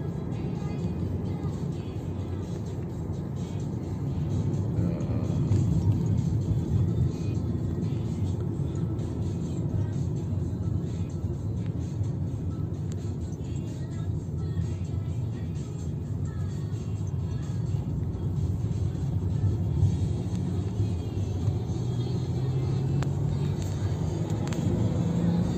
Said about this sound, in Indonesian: Oke, kita coba akselerasi di tol.